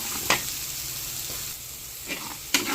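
Garlic sizzles in hot oil in a pan for chicken arroz caldo, a steady close fry with a few sharp scrapes and clinks as it is stirred.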